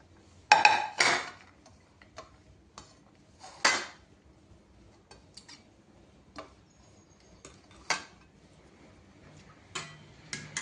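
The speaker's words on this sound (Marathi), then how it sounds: "आता ही एक आपलेली पूर्ण शेंग तुकडे केलेले आपण याच्यामध्ये मिक्स करायचे आहे" Cut drumstick pod pieces being mixed in a bowl for pickle, giving sparse, irregular clinks and taps of utensil against the bowl, close and fairly quiet.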